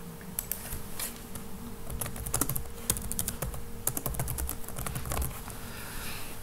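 Someone types an email address on a computer keyboard, a quick run of close, crisp key clicks at an irregular pace with no talking.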